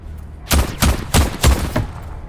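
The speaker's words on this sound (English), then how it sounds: "here is the proper way to shoot enemies with a pistol" Five pistol shots in the video game VoidTrain fire in an even, quick rhythm, each a loud sharp crack with a short thump, standing alone with no talking over them.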